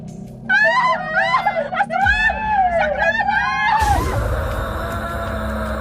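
A housemaid screams loudly in a Filipino aswang horror audio drama, with high, wavering cries repeated over about three seconds before a burst of noise and a rumbling effect take over.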